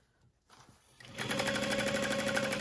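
A sewing machine stitches around the gusset of a crossbody bag, starting after a quiet moment with soft handling and then running in a steady, close, fast mechanical whir to the end.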